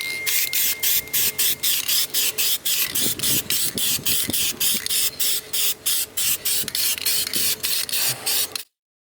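A second coat of spray paint goes onto a damaged wheel rim in rapid, even pulses of close, loud hissing, around two per second, for about eight seconds before stopping abruptly.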